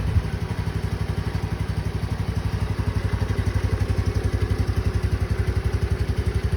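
A 2022 Honda Navi motorcycle idles steadily on choke in a 60-degree shop, its small engine putting out an even, rapid, close-up pulsing putter that holds constant throughout with no talk.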